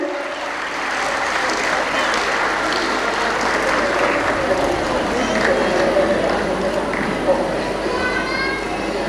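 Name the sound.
audience applause at school prize function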